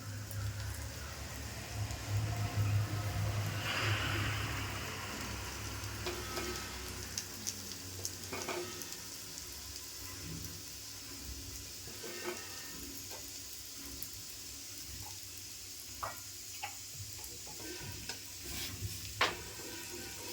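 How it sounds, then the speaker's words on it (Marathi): Ragi ladoos roast in a nonstick pan with a few drops of ghee, giving a soft, steady sizzle under light scraping and stirring, with occasional small ticks and clicks. "आता मी थोडं थोडं ना 2-2 थेंब असं तूप सोडून घेते, म्हणजे त्या मस्त खरपूस अशा वरून तरी भाजतील संपूर्ण."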